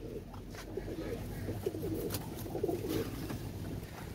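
A single male Kaldam pigeon coos softly in a low, rolling series of repeated calls, close by with a faint background hiss.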